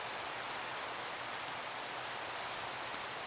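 Rain falls steadily in the Minecraft video game as an even, hissing wash of noise, constant and moderately faint throughout with no other sounds.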